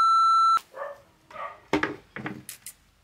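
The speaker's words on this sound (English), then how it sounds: "Did you hear those dog barks?" A dog gives a few short barks and yelps at close range in a home, coming in quick irregular bursts after a brief tone, with faint knocks between them.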